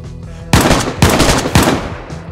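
Three loud bursts of gunfire in DayZ, each sharp crack ringing out about half a second apart over a low ambient background, with no talk.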